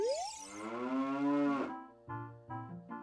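A cow in the video game Ocarina of Time lets out a long, loud, close moo that rises and then drops, and a short run of game jingle notes follows.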